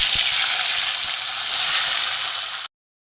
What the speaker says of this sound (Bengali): আর দুটো লেজা আছে, দুটো লেজা ভেজে নেব